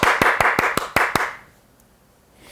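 Audience clapping in unison at a Korean neighbourhood redevelopment briefing: about seven sharp, evenly spaced claps over the first second, then the clapping stops and the room goes quiet.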